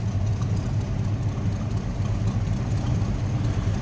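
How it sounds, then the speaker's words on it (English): A 1976 Chevrolet K10 shortbox pickup idling on its 350 engine gives a steady, mellow low rumble, close by and continuous with no revving. "Nice little rumble coming out of that 350, nothing over the top."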